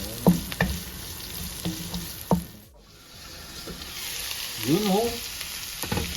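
Carrots stir-fry in a pan for pancit canton, a steady sizzle broken by utensil clanks and scraping, with a brief voice speaking over the cooking.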